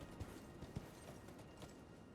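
Hooves of a horse trotting in the video game Elden Ring, soft periodic thuds spaced evenly over a steady ambient game bed, no voices present.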